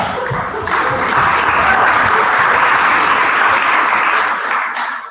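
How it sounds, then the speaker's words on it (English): Applause at a student JCR meeting, a loud sustained burst of many hands clapping that swells quickly, holds steady, and tapers off near the end. "Applause for that."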